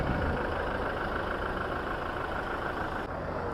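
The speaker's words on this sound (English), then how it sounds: "just hear the diesel clatter for a second" A diesel engine idles close by with a steady, loud, continuous clatter and rumble that holds even throughout, with no talk over it.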